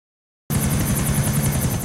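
A helicopter in the GTA video game cuts in abruptly after half a second of silence, then holds a loud, steady rotor-and-engine roar with a fast pulsing chop.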